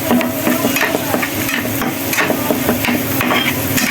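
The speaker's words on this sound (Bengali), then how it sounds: "এটাকে ভালো করে একদম নাড়াচাড়া দিয়ে ভেজে নিচ্ছি।" Stick noodles seasoned with rock salt are stir-fried in a pan, a continuous loud sizzle with repeated scraping and tossing strokes close by.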